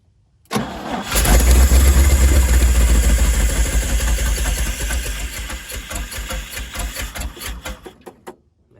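A 1977 GMC truck engine cranks, catches and runs rough with a possible ignition timing fault. The loud uneven idle lasts several seconds, close by, then fades toward a stop.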